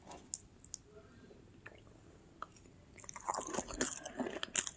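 Crunchy cinnamon-coated Thanksgiving treat bitten and chewed up close: a few sparse crisp clicks at first, then a dense burst of loud crunching bites near the end, no talking.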